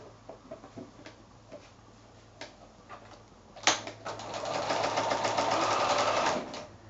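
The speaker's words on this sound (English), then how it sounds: "So I'm just going to sew that now with my quarter inch seam allowance." Sewing machine running a quarter-inch seam joining quilt sashing strips, with a few soft clicks and handling sounds first, then a sustained, close whirring stitch run for several seconds.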